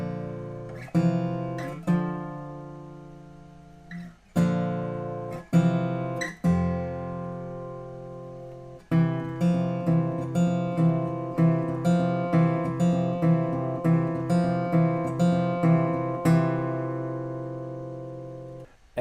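Acoustic guitar fingerpicks the bridge of a song, ending on the fifth and fourth strings plucked together; single notes ring out at first, then settle into a steady, quick picked pattern, close and clear with no voices.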